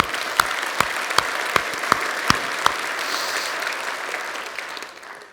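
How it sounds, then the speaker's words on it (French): Audience applause at an opening conference in a hall, a loud steady wash of clapping with a few sharper claps standing out near the start, trailing off at the end. "On peut les applaudir."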